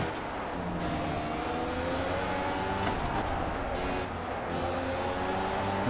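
Turbocharged Lotus 98T Formula 1 engine roaring in a racing video game at the classic Hockenheimring, a steady loud drone with rising harmonic sweeps as it revs and shifts, close and continuous throughout with no talk.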